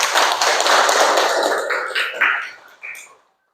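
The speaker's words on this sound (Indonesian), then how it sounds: "Tepuk tangan untuk kita semua." A seated audience at a teacher training session claps together, a dense burst of hand clapping that thins into a few scattered claps before stopping.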